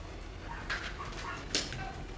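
A dog barks in the video game Death Stranding, giving two short, faint yelps over a low steady game background.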